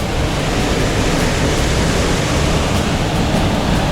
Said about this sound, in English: How much water is going down?